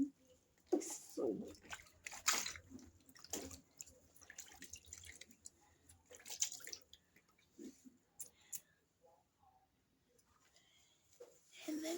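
Water poured over bare feet during a home DIY foot-care rinse, giving irregular splashes and drips that come in short bursts and trickles, close by, with someone talking intermittently.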